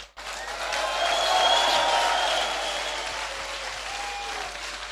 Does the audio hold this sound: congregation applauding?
yes